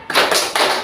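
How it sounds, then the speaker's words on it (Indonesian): A group performs the 'tepuk hebat' clapping cheer, about three quick rhythmic claps, close and loud, with no voices over them. "kita tepuk hebat buat Bu Yati"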